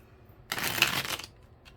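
A deck of tarot cards is shuffled in one brief, crisp riffling burst lasting under a second, close and fairly loud against a quiet room.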